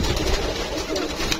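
Domestic pigeons kept for breeding coo softly and continuously close by, a low murmuring flock sound with no talking over it.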